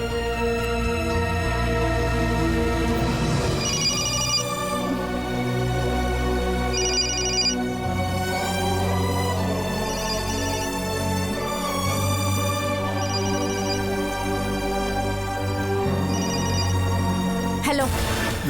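A melodic phone ringtone plays loudly and continuously, repeating its tune over and over without pause while a call to another person goes unanswered.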